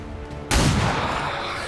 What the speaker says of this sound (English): So let's take a shot for a pistol.